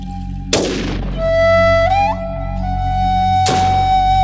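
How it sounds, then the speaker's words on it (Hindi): Two sharp, loud blasts from a hunter's gun in an animated moral story about a crow and a peacock, spaced about three seconds apart, each decaying quickly over sustained musical tones. "ये शिकारी की आवाज है"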